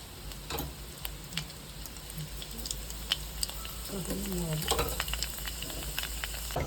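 Soft crackling and sizzling of parboiled rice frying in hot oil after mustard seeds pop, with sharp pops scattered throughout and a brief stir partway.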